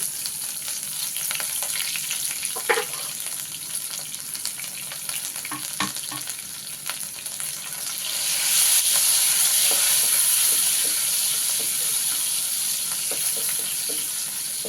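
Onion and dried red chillies sizzling in hot tempering oil for cucumber dal, a loud continuous crackling hiss that swells and brightens partway through, with a few stirring knocks and no talking.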